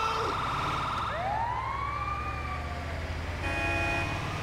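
Police car siren in the video game GTA, a rising wail sweeping up and holding over a steady engine-like rumble, loud and close, with a second tone cutting in near the end; a voice talks faintly underneath.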